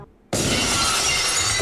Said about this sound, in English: The glass shatters and Steve Austin walks out with the crowd roaring